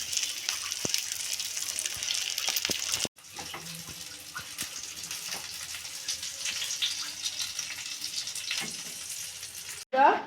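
Crispy chili pakoras deep-frying in hot oil, a dense steady hiss and bubbling sizzle heard close, running continuously across a couple of abrupt cuts, with no voices.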